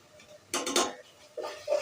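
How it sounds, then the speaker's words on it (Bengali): Fish and spice paste stirred in a pan for a Bengali tomato fish curry, three quick metallic scrapes of a spoon against the pan, close and brief, with no voice. "মাছটাকে মশলাটা ভালো করে কষিয়ে দিচ্ছি।"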